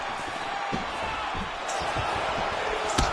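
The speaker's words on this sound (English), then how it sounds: "You hear this crowd just eating out of his hand, oohing and on every time he advances." A large crowd at a fight between Adesanya and his opponent gives a continuous broad roar of oohs and cheers, with occasional thuds and slaps cutting through the dense wash of noise.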